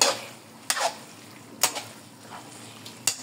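A spoon stirs beef tripe callos in tomato sauce in a pot, with a few sharp scraping clacks against the pot over a soft simmering sizzle, spaced irregularly and close.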